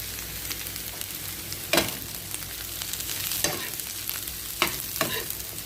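Sliced carrots and cabbage sizzle steadily in a hot pan for homemade fried rice. A few sharp spatula scrapes and stirring strokes break through the constant frying hiss, with no talking.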